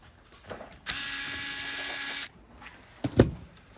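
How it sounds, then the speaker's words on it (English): A powered driver briefly whirs while loosening a fastener on the sensor bracket of a Xerox 78xx fuser during a rebuild, one steady mechanical burst lasting over a second, followed by a few light clicks and knocks. "you're just going to loosen it in order to remove that sensor bracket there"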